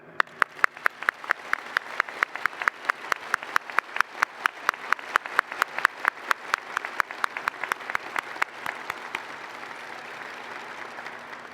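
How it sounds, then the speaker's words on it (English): Round of applause for the pre-commissioning crew of the submarine USS Illinois (SSN-786) at its keel laying ceremony: a steady run of crisp, moderately paced claps from a small audience, lasting about ten seconds and thinning out at the end. "I want to just take a moment to give a round of applause to the"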